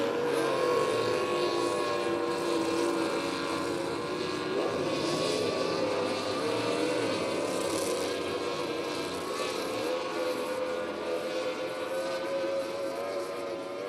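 Outboard Performance Craft racing boats warming up at a regatta, several outboard engines droning and buzzing together at a distance, their pitches wavering under a steady hum.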